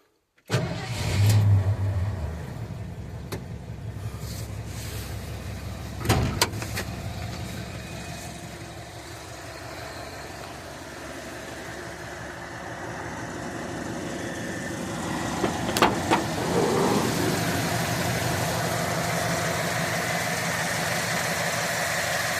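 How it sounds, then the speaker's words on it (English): A 1981 Ford F150 with a new fuel pump cranks and fires, then settles into a steady mid-pitched idle, with a few sharp knocks and clunks rising above the running engine. "There's the engine."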